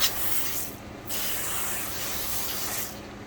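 Vonixx V-Floc car shampoo is sprayed as foam onto a car's wheel well, a steady close hiss broken by a brief pause before the spraying resumes.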